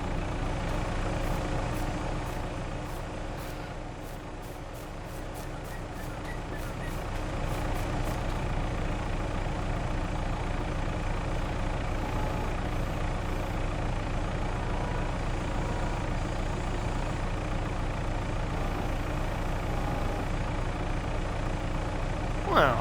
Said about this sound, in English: turn our wood chipper on. We got to start the engine